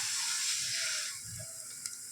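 Garlic, mustard seeds and cumin sizzle in hot oil in a home kitchen, a bright close hiss that fades after a second into a softer crackle with a small pop near the end.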